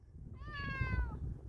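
A hungry cat gives a single drawn-out meow, clear and close, over low background rumble outdoors near a house.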